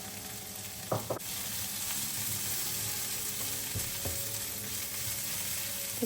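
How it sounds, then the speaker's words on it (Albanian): Onions fry in oil in a pan, with a continuous close sizzle and a few sharp clicks of stirring near the start. "Më pas në të njëjtin tigan do të skuqim qepët."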